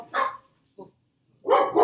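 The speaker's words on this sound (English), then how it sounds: "the second I start filming, my dogs start barking" Household dogs bark in short loud bursts, one bark, a small yip, then a double bark after a pause, close by with no talking.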